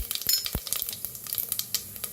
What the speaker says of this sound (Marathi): एक चमचा जिरं जिरं मोहरी चांगली तडतडू द्या